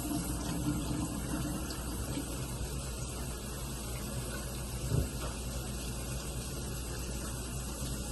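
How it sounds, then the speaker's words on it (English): Meat is rinsed under a running kitchen tap, a steady close rush of water with a brief splash of handling midway, no talk. "You just want to get all the impurities off the meat. So we're just going to wash it off like this."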